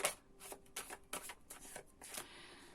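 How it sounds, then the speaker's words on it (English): A deck of Psychic Tarot cards being shuffled by hand, giving a run of crisp, riffling paper bursts at a fairly even rhythm, close and moderately quiet, with no talking. "I'll just do a final shuffle for you"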